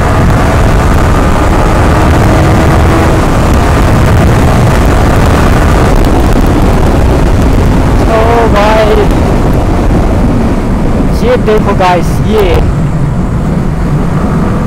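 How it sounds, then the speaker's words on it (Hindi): Heavy highway traffic streams past a moving rider in a loud, continuous roar of engines and wind, with a couple of horn honks midway and toward the end; someone speaks briefly over the din. "बहुत ज़्यादा ट्रैफिक है आज पता नहीं पूरा हाईवे एकदम भरा भरा चल रहा है"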